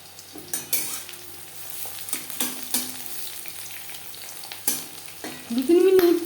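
Eggplant stir-fried in a pan while cooking brahmi shak bhaja, with a soft continuous sizzle broken by several scraping spatula strokes, and a brief louder sizzle near the end.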